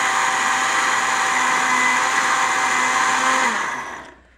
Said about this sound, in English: Still need a new blender. Look, it's not even doing anything.